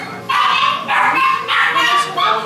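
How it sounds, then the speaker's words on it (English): Puppies in a pet shop bark and yip in four short, evenly spaced bursts, close and loud, with no talk over them. "we're gonna adopt a puppy right now"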